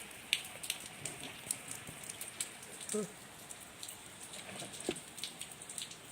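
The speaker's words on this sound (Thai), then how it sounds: "ฝนตกนะคะทุกคน" Rain falls outdoors onto cement surfaces in a soft, steady patter with scattered sharper drips. It stays faint throughout, and a brief voice appears midway.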